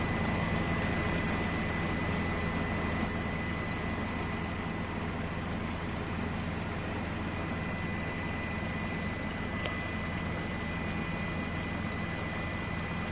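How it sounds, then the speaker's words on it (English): Jet engines of a Boeing 787 roar during its first takeoff roll, a steady, heavy, continuous rumble with a faint high whine, heard from a distance and unbroken throughout. "you can see the thrust that those huge jet engines are generating there"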